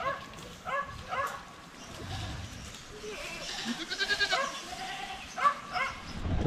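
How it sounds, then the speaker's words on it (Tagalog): Goats on a Filipino farm pen give several short bleats scattered across the scene, mixed with a possible dog bark and rustling activity, moderately near with some faint voices. "Bantayan na natin yung ating mga kambing dito."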